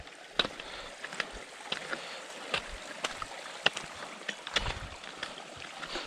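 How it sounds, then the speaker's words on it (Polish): A mountain stream flows and gurgles along a dark mountain trail in the Polish Beskids, a steady watery rush with scattered splashes and clicks, fairly faint. "Zaczął się potok."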